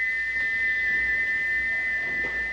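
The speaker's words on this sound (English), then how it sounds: "but he wouldn't stop whistling until two fitters climbed up and knocked his whistle valve in place" A steam locomotive whistle in a Trainz animation, one steady unbroken tone held at constant pitch for the whole stretch over faint background noise.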